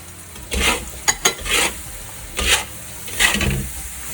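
Tofu frying in a pan for vegan Maggi goreng: a low sizzle under several scraping stirs and a couple of sharp utensil taps against the pan, close by.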